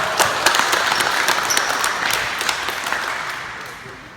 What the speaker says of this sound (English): Hey, nice round of applause.